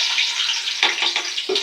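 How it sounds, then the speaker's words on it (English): Onions frying in hot oil in a pot, a steady close hiss of sizzling with a couple of soft stirring bumps. "Fry the onion a little."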